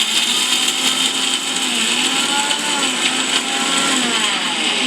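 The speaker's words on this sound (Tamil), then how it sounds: "எல்லா பொருட்களையும் நான் வந்து மிக்ஸி ஜாரில் போட்டு அரைக்க போகிறேன்" An electric mixie grinder jar whirs loudly as it grinds roasted masala for a Tamil fish curry (meen kulambu), a steady high motor whine that holds unbroken and close throughout.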